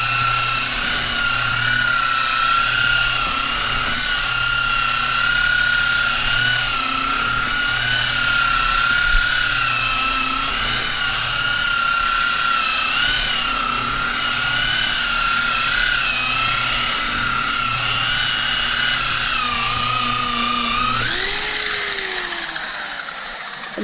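A power polisher buffs Meguiar's wax onto a boat hull, whining loudly and steadily at close range for over twenty seconds before spinning down as it is switched off.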